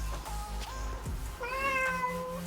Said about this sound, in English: Oh, cats.